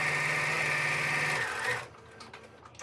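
A sewing machine stitching a shirt runs in a steady, rapid whirring hum for over a second, then stops, leaving faint handling noises of the fabric close by.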